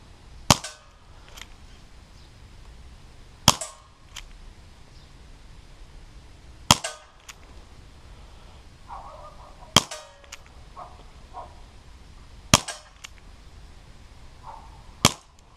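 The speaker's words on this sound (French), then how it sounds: "Maintenant, on va tirer un barillet au plomb." A Dan Wesson 6-inch 4.5 mm CO2 airgun revolver fires pellets, six sharp cracks spaced about three seconds apart, each with a short metallic ring, close and loud with quiet handling noise between shots.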